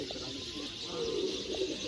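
Sialkoti pigeons coo softly, a few low murmuring calls over a steady hiss of background noise, near but quiet.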